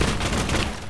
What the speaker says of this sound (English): he's just randomly shooting